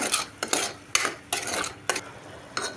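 A spoon works salt, chili powder and garam masala into cucumber kurma in a pot, giving close, rhythmic scraping strokes about every half second with light clinks against the metal.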